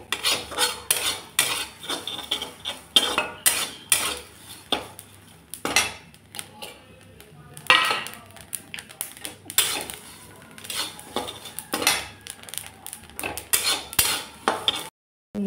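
Garlic cloves and nigella seeds are stirred in a dry pan with a utensil, giving repeated close scraping and clinking strokes in an irregular rhythm with short pauses.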